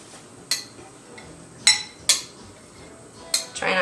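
Oat flour being added and mixed into banana puree for vegan blender pancakes: several sharp clinks and taps of a utensil against a bowl or container at irregular intervals, fairly close, with quiet gaps between and no talking.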